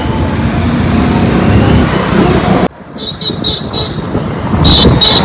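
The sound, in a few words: road traffic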